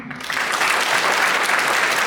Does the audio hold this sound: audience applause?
yes